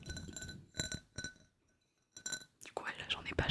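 A Coca-Cola drinking glass shaped like a can being tapped, producing several bright, ringing glassy clinks in small clusters separated by silence, close and intimate, followed by soft whispering.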